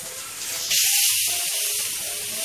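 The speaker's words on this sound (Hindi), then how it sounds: "ये देखो अभी ये मसाला भून रही मैं।" Masala sizzles and hisses steadily in a pan for Konkani dried prawn thecha, a loud, continuous frying hiss that surges brighter partway through, close and alone with no talk.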